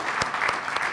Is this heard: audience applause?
yes